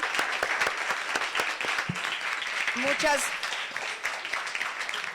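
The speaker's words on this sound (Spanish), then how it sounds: "despedimos a Claudia con un fuerte aplauso" Audience applause closing a conference talk, moderate and somewhat distant, with individual claps audible and a voice briefly speaking over it partway through.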